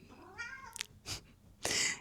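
A cat meows several times in short, separate calls, the last one loud and drawn out, close by with no talking.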